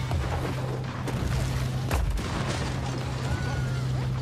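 Gunfire aimed at the player in the Rampage VR game on Quest 2, dense booming bursts and pops in a continuous barrage with a heavy impact around the middle.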